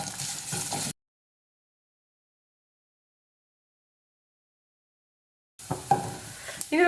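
Curry leaves and chopped ginger sizzle and are stirred in a hot pan, heard in two short bursts of frying crackle and scraping separated by a long silence.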